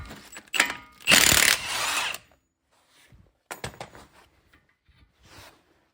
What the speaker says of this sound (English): it's time to take the axle nut off.